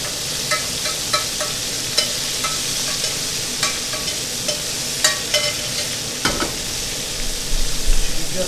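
Calamari frying in a pan, a steady close crackling sizzle with scattered sharp pops and spatters, growing busier and louder toward the end.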